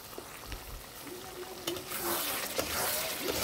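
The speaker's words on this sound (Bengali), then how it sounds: "তাই কড়াইতে দিয়ে দিলাম, সুন্দরভাবে নেড়ে চেড়ে কষিয়ে নেব" Egg curry being stirred and fried in a kadai, soft scraping of a spatula over a quiet sizzle that grows louder and brighter partway through, close and with no voices.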